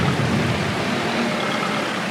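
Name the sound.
pouring rain in a farming video game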